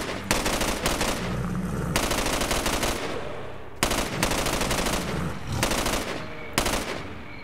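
Rapid automatic gunfire from S.T.A.L.K.E.R. Call of Pripyat comes in several loud, sustained bursts separated by short pauses, close and dominant throughout.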